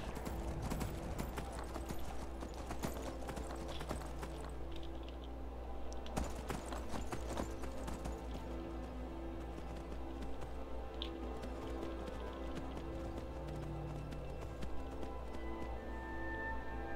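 Horse hooves galloping in the video game Skyrim, a steady rapid clip-clop running throughout over a continuous low game ambience, fairly loud and close.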